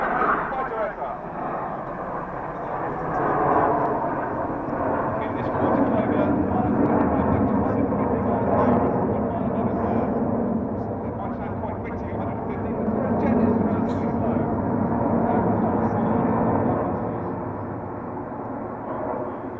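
Red Arrows jet aircraft fly overhead at an airshow in a sustained, swelling roar that rises and falls as they pass, with a commentator talking throughout.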